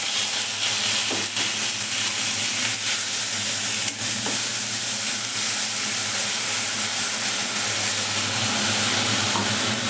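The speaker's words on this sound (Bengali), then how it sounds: "পেঁয়াজ বাটাটা আমি একটু কষে নেব" Onion paste sautéing in hot oil with bay leaves and asafoetida, a steady loud sizzle and hiss running unbroken throughout, with faint stirring scrapes now and then and no talking.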